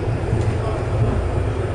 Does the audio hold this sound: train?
yes